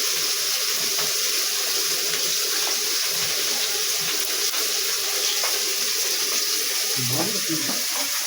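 Water runs steadily into a pot during cooking of a sour fish dish with hog plums and mourala fish, making a constant rushing pour that masks the surroundings, with a brief low knock near the end.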